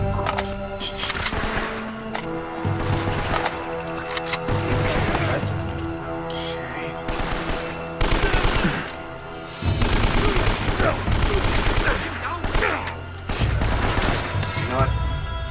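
Gunfire in Uncharted: Drake's Fortune comes in loud, close bursts of rapid shots, broken by short pauses as the exchange goes on.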